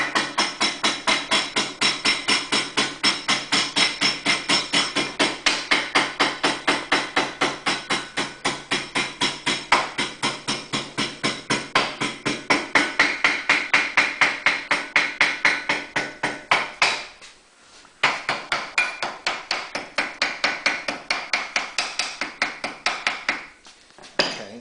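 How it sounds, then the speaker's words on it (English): Ball peen hammer striking a metal part clamped in a vise, a fast, steady run of loud close metallic blows that pauses briefly near the end, then resumes. "I'm just going to be using a vise and a ball peen hammer."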